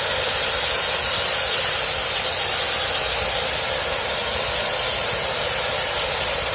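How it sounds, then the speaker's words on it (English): Steam locomotive GSMR 1702 releases excess steam through its poppet valve, a loud, continuous, broad hiss that holds steady throughout and eases slightly partway through. "you're hearing that loud hissing is the poppet valve releasing steam"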